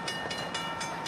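An oncoming train chugging down the track toward a crossing, with a steady rumble broken by rhythmic bursts about every quarter second, moderately loud and without voices.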